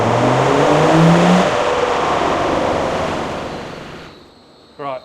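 Td5 diesel engine fitted with a GTB450 turbo revving hard on a dyno, a loud sustained roar that climbs then slowly fades, ending with a brief voice.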